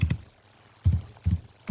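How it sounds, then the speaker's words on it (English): Three short bursts of computer keyboard typing, brief clustered key clicks separated by quiet gaps, close and fairly soft with no talking. "Let me type Bitcoin"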